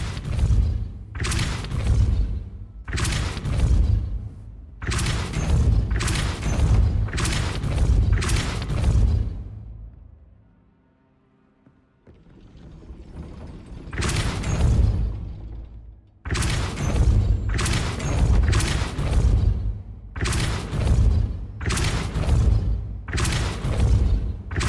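Repeated Depulso spell effects in Hogwarts Legacy: loud, booming blasts of whooshing force fire in quick bursts, with a brief quiet gap before another volley.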